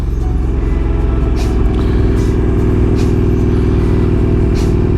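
A motorcycle engine drones loud and steady as the clutch is eased out with a little throttle to pull away, its low rumble holding even under faint wind buffeting.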